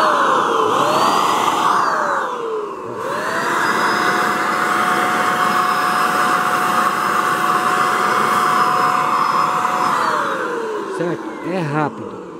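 An electric paint sprayer for painting walls whines loudly and steadily for about seven seconds. Its pitch rises as it starts and falls as it stops, with a short burst before and a sputter after, and a voice briefly over it.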